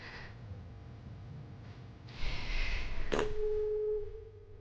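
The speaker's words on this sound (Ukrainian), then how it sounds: "Дзвоню до, до брата, щоб він мене поздравив з землежем." A phone call tone rings out as a steady, moderately loud note lasting over a second, after a short burst of noise, over a faint background hum in an indoor room.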